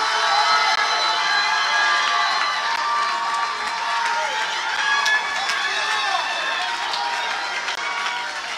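A church congregation shouts and cheers in a loud, continuous crowd roar with scattered clapping, while a preacher's voice carries over the top.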